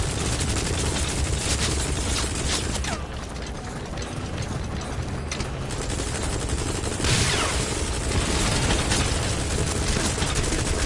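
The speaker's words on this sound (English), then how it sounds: "Don't try to take down a gunship from the front." Sustained heavy gunfire from a helicopter gunship in Metal Gear Solid V, a loud, dense rattle of rapid shots with mechanical clatter running continuously throughout.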